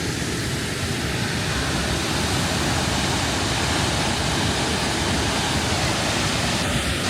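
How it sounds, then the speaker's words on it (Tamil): A waterfall pours heavily at Blyde River Canyon in South Africa, swollen by rain. It makes a steady, dense roar that holds evenly throughout, close and loud, with no voices. "பாருங்க பயங்கரமாக ஊற்றுது வாட்டர் ஃபால்."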